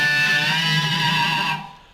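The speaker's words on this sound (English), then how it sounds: "I just turned on the harmonizer with both the notes equally sounding." Sustained electric guitar solo note doubled by a harmonizer a third below, both voices equally loud, ringing steadily for about a second and a half before cutting off and fading, no talking.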